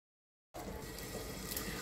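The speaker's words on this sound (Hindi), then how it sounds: "अब इसमें हम दो गिलास पानी डाल देंगे" Water poured into fried masala in a cooking pot for pakoda kofta biryani, a steady close splashing gush that begins abruptly after a moment of silence and runs on evenly.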